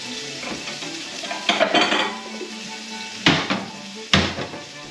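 Bowls and dishes clatter while fish taco bowls are assembled with salsa and cheese, with a few distinct sharp clinks and knocks over a soft background sizzle and stirring, no talk.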